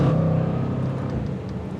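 A 2021 Jaguar F-Pace SVR engine revs under throttle during a U-turn, a steady close mechanical drone with a low rumbling tone, brief and continuous without talk.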